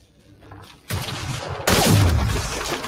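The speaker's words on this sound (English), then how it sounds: "Take a shot at that fuel cell." A single loud gunshot fired at a fuel cell in the sci-fi game Mass Effect Andromeda, a sharp burst breaking through quieter ambience, followed by a second, heavier blast that rings on for a moment.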